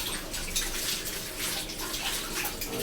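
Tap water pours into a household storage tank in a steady, close, full rush of flowing and splashing water, unbroken for the whole stretch and with no voices.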